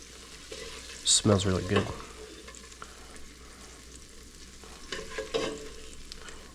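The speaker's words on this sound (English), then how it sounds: "Just kind of a quick sear." Steak sears in a hot pan with a soft, steady sizzle under a brief spoken remark, punctuated by a couple of clattering stirs or turns near the start and again toward the end.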